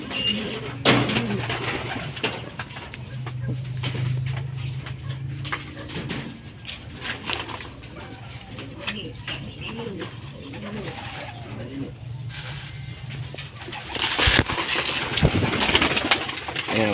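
Racing pigeons cooing while being fed, soft repeated coos and rustling around the birds with intermittent talking over them and a louder burst of activity near the end.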